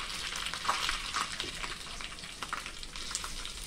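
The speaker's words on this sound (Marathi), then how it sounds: "तर या लाल मिर्च पावडरवर आपला हा तडका टाकायचा" Hot tadka of curry leaves and red chilies poured onto red chili powder over boiling dal, giving a steady bright sizzle and crackle with small popping bursts, close and continuous, no voices.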